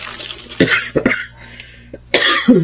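Several short coughs close to the mic, spaced unevenly over a faint steady background hum.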